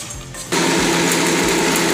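A mixer grinder starts up and grinds roasted gram dal and sesame into a dry masala for Kolhapuri tambda rassa, its loud, steady whirring motor running alone after a brief quieter moment.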